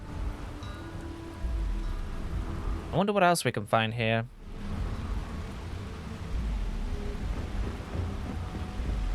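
Steady rain with rolling thunder on the rainy planet Neon in the game Starfield, a constant hiss of downpour throughout, while someone speaks briefly partway through.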